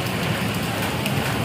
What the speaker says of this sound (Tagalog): Para si nani karon nag-ulan.